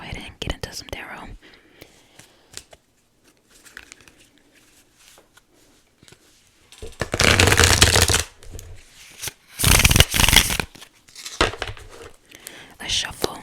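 Tarot cards are shuffled in several loud, rapid riffling bursts, close up, separated by softer handling and faint whispery speech.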